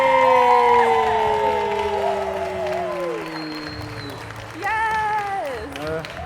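Audience applause and cheering as a speaker is welcomed to the stage, crowd clapping with whoops and shouts over the noise, then a fresh burst of excited cheers.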